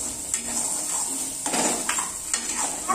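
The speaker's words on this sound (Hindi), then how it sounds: "ये अच्छी तरह से मिक्स करेंगे।" Red chili powder and salt being stirred into a pan for egg Maggi noodles: a continuous scraping and stirring with soft clinks of a utensil against the pan and a light background sizzle, close and steady, no talking.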